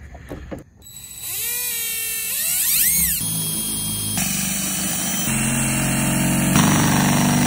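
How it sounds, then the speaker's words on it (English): A power drill bores a small pilot hole in the metal body of a school bus during a skoolie conversion, spinning up with a rising whine, then grinding steadily and loudly through the panel for several seconds. "First, I'm gonna drill a small pilot hole somewhere right here."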